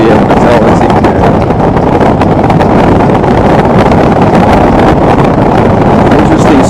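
Heavy, loud wind buffeting roars without a break on a Harley-Davidson motorcycle with a quarter fairing windshield, with the engine drone buried beneath it.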